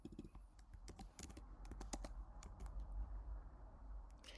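Rapid keystrokes on a computer keyboard while entering text into an Excel spreadsheet, close and steady, clustered in quick bursts of clacking with no talking.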